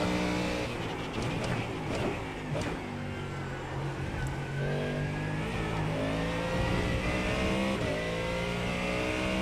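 Ford Mustang GT3 race car engine lapping Monza in iRacing's IMSA fixed series, a loud steady roar with rising and falling revs, gear changes and faint squeal from other cars passing nearby.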